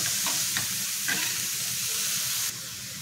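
Paneer momo filling with coriander sizzles steadily in a pan while being sautéed, a dense, close frying hiss with a few light stirring scrapes, and the sound drops slightly near the end.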